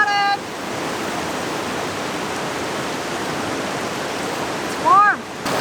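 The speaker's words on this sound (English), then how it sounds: "now we're gonna have a nice warm shower" A warm camping shower runs outdoors in the backcountry, a steady close hiss of spraying water that continues unbroken, with a brief chirping sound near the end.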